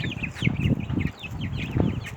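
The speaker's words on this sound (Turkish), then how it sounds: "Şimdi tavuğumuz, tavuğumuz, bu horozumuz, horozumuz." Chickens cluck in a busy, overlapping chorus in a coop with a rooster among them, steady and fairly close, with no talking.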